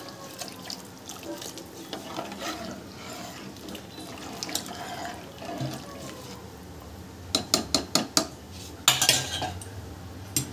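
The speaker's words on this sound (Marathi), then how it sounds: "आपण आहे ना बाजूला जे पाणी गरम केलेलं होतं ना ते घालून घेऊया" Hot water is poured into a metal pot of chicken curry. The splashing runs under clattering pots and utensils, and a burst of sharp metallic clinks comes near the end.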